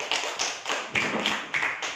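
A classroom of students claps in a quick, steady rhythm for a group that has just presented, with about seven sharp, even bursts close by and no talking.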